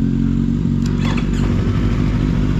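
A Yamaha MT-03 motorcycle engine runs while being ridden, a loud, close, steady low-pitched droning rumble with faint clattery texture throughout.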